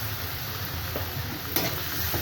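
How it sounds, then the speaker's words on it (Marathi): Turmeric stirred into vada pav filling frying in a pan, with a steady loud sizzle throughout and a brief scrape of the spoon partway through. "हळद टाकायची आता."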